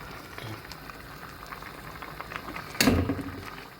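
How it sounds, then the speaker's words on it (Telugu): Chicken soup with vegetables and beaten egg bubbles steadily in a pot, a soft continuous simmering hiss with a brief louder burst of bubbling near the end. "అదే ఉడుకుతుంది దాంట్లో."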